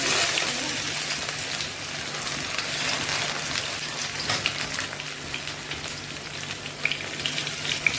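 Ginger frying in hot oil in a wok, a dense, steady sizzle and crackle filling the whole span with no talking.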